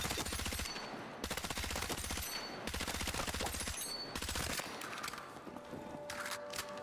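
Rapid automatic gunfire from a weapon at the firing range in the video game Battlefield 6, loud and continuous in long bursts with short pauses between them, no talking.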